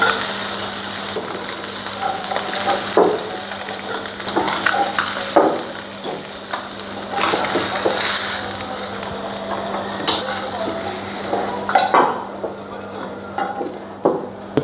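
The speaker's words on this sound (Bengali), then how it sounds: "মাছের এ সাইডটাও ভাজা হয়ে গেছে।" Koi fish fries in hot oil in a pan, a dense close sizzle with occasional crackles and scraping turns, steady and loud, with no talking.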